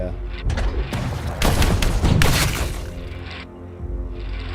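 An explosive shell weapon fires in the tactical biopunk RPG Deep Fringe, with a few loud, booming blasts packed close together over roughly two seconds and someone talking across them.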